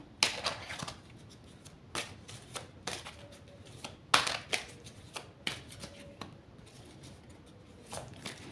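Tarot cards are shuffled by hand, close and dry, with irregular bursts of riffling and tapping spread across the whole stretch.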